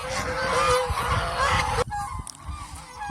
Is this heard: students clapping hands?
no